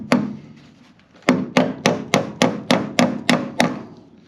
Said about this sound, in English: all we have to do is just fasten this bracket to the rafter.